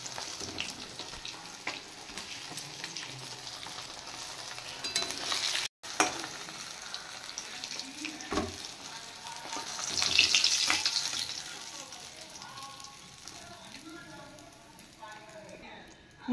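Pieces of katla fish sizzle in hot oil in a pan, a steady close crackle that swells briefly louder near the end.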